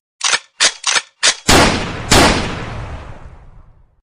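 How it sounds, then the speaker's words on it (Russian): Four quick gunshots in a rapid burst, followed by two louder booming shots that ring out and decay slowly, gunfire in the video game Madout 2. "Отличный выстрел"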